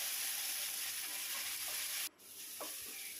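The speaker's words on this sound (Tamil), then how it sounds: "இஞ்சி பூண்டு பேஸ்ட் போட்டு நல்லா அது பச்சை வாடை போகிற வரைக்கும் நல்லா வதக்கிக்கலாம்" Ginger garlic paste sautés with onion and green chili in a pan for veg pulao, giving a steady bright sizzle with a few soft stirring scrapes partway through.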